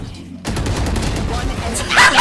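A shotgun fires in a video game after a short quiet moment, producing loud, rapid, overlapping blasts that continue to the end. Voices may be faintly mixed in.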